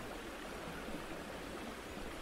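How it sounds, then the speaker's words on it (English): Water rushes from a lake down into a large crater, a steady, broadband wash of noise that stays even and fairly soft throughout with no voices. "I followed it up a grassy hill and noticed the sound of rushing water"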